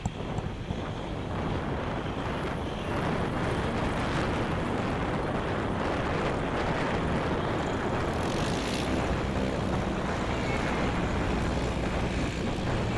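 A STOL propeller airplane roars through short takeoff and landing practice at the Swamp STOL event in Jennings, Louisiana, a steady loud engine drone buffeted by heavy wind noise throughout.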